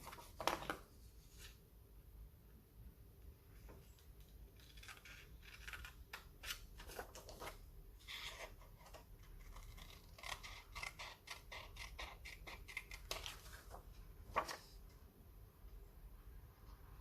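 Scissors snip through paper for a pochette and card in a long run of short, crisp cuts, some spaced and some in quick bursts, close and fairly quiet with no talking.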